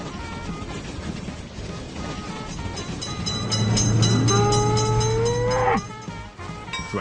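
A train passes a level crossing in the mobile game Railroad Crossing: a rising rumble swells over background music, with a horn-like tone sweeping upward and then cutting off near the end.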